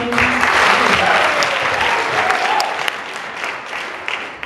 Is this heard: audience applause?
yes